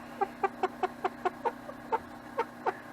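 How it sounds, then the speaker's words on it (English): A pet rooster clucks indoors at close range in a workshop where soft plastic paddle tail swimbaits are made, giving about ten short, evenly spaced clucks over a few seconds with no talking. "He's a cool chicken. He hangs out in here with me"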